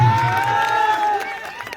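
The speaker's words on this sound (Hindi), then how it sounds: "एक बार ताली बजा के आशीर्वाद दे दीजिए।" An audience claps and cheers at a Bhojpuri stage show, a dense burst of applause that is loudest at the start and tapers off over a couple of seconds, with voices mixed in.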